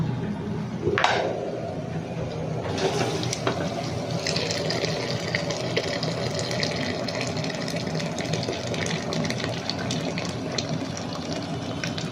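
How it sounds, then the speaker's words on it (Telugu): Water pours steadily into a pot of fried rice for several seconds, a continuous gushing splash that settles into a bubbling fill, close and fairly loud. "ఇప్పుడు మనం వాటర్ వేసేసుకుందాం."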